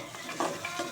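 Brief scraping and stirring in a pan of spices with turmeric for tandoori chicken curry, with a soft sizzle underneath, a few spoon strokes over about a second.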